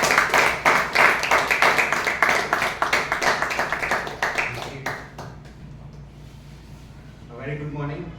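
Applause from a Toastmasters club audience for an evaluator, a burst of steady, fairly close clapping that fades out after about five seconds, followed by a brief voice.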